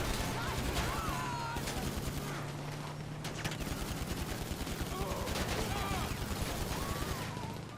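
Gunfire during a crate-run mission in GTA Online, rapid sustained bursts of automatic shots with scattered single cracks, loud and continuous over a low engine hum.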